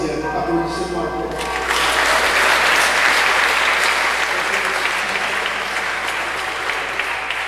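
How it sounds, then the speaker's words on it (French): An audience claps loudly at a farewell gathering in Saint Barthélemy, with dense, steady applause swelling after a brief voice at the start and continuing without a break to the end. "Applaudissez-moi encore."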